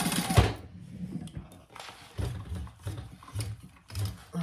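A sewing machine stitches the bottom of a fabric clutch closed, sounding in short mechanical bursts and runs with brief pauses between them.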